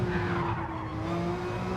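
A car spinning and skidding in the Gran Turismo 7 racing game: a sustained tire squeal over a droning engine, loud and continuous with no talking.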